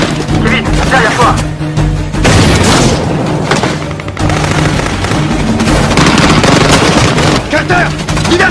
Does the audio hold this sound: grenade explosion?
yes